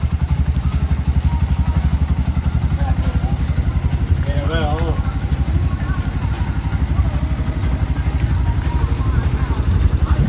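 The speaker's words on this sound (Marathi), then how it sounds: "तर आपली रिक्षा आता आले." An auto rickshaw engine idles at a rural bus stand, a loud steady throbbing close by that runs throughout, with a brief distant bird call partway.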